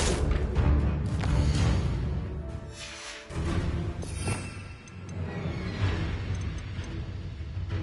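Reducto spell blast from the Hogwarts video game erupts in heavy, broadband booms and whooshes, several loud bursts with rumbling decay and brief lulls between them.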